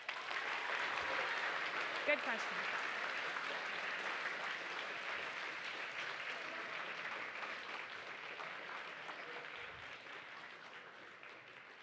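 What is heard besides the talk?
audience applause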